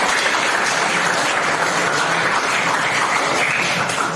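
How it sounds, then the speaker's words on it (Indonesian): A classroom full of people claps steadily after a student's persuasive speech, a dense, even burst of applause lasting the whole stretch with no talking. "tepuk tangan untuk Anda"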